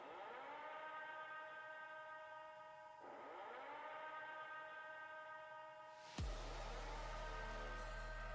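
Sirens wail ahead of the death rail event, sustained tones holding and swelling for about six seconds before a sudden loud, broadband roar cuts in.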